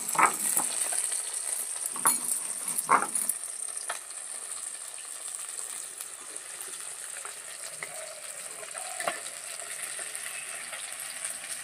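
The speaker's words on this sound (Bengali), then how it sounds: "মাছগুলো লাল করে ভাজা হয়ে গেছে" Steady sizzling of bata fish frying red in hot oil, with a few clinks and stirring knocks early on, then a continuous crackling hiss.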